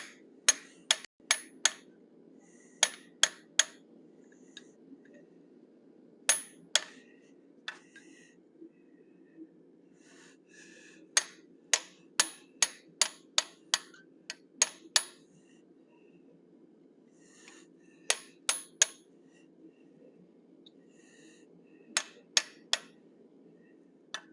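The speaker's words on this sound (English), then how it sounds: "So now I'm using my teardrop shaped bob punch. I'm going to open up the eye sockets to accept the eye punch." A hammer repeatedly strikes a teardrop-shaped bob punch to open eye sockets in a forged animal head. It gives sharp metallic rings in quick bursts of two to six blows, separated by pauses, over a low steady hum.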